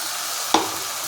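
A ground paste of sesame, cashew, raisins, ginger, cumin, chili and mustard lands in a hot pan with a sudden close hiss, then a steady frying sizzle that fades into a continuous crackle.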